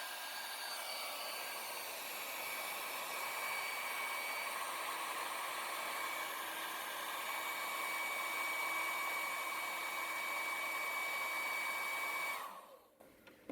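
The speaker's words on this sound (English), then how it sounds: "I'll actually use a hair dryer to heat it up" A hair dryer heating a fly-tying lure blows with a steady, even whir and a faint whine, running continuously before switching off near the end.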